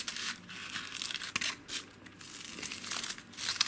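Crepe paper rose stems being trimmed with scissors give close, dry crinkling and snipping sounds in a rough, uneven rhythm, with no talking.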